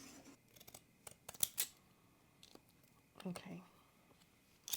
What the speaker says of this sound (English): Let me cut these out.